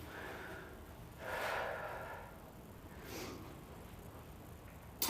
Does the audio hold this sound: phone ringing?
no